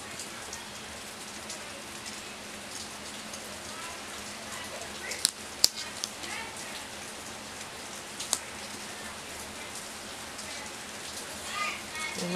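Steady rain falling outside, a soft continuous hiss with a few brief sharp ticks and taps partway through, faint and even throughout with no talking.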